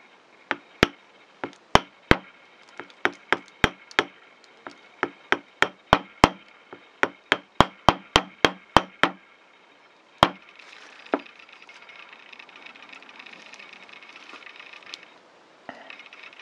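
A repoussé punch is tapped with a small hammer to dome the tips of tiny silver flower petals, about twenty crisp metallic taps in a quick uneven rhythm, then a few isolated taps over quiet background noise.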